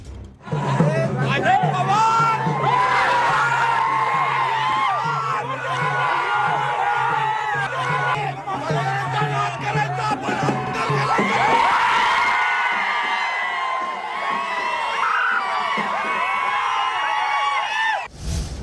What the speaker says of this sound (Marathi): भाजपनं हा जल्लोष केल्याचीही दृश्य आपण पाहतोय